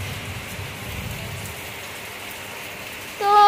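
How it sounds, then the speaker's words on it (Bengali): Heavy downpour falls outside a window as a steady, dense hiss of rain, close and continuous, ending in a brief louder tonal sound. "দেখুন এদিকটা দেখুন বৃষ্টি পড়ছে নিচে"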